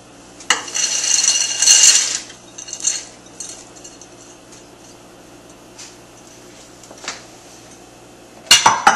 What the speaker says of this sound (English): Then I'll dump my veggies.